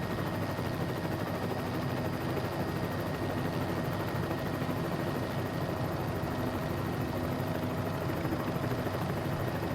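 A helicopter hovering at night in Microsoft Flight Simulator, a continuous, steady rotor and engine drone with a faint whine, even and unchanging throughout, with no voices.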